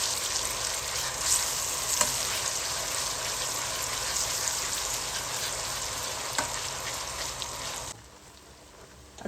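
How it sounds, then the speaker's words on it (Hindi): Ginger garlic paste fries with curry leaves and cumin in a pan for a dhaba-style mash dal, giving a dense, steady sizzle with soft stirring scrapes before it abruptly drops away. "इसको भी अच्छी तरह भून लेते हैं।"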